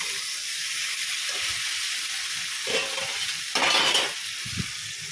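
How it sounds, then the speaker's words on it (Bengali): A curry masala is stirred and sautéed in oil, giving a steady close sizzle with scraping stir strokes that swell louder near the end, and no one speaks. "অনেকক্ষণ ধরে কষাচ্ছি তেল ছেড়ে দিয়েছে"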